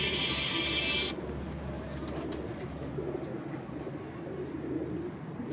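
Pigeons coo softly nearby in a steady murmuring chorus under a faint background hum, with a brief louder hiss in the opening second.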